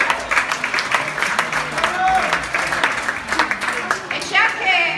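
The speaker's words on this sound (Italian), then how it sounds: "Applauso Franco!" An audience at a charity football match in Pescara claps and cheers steadily and loudly, with a voice heard over the applause.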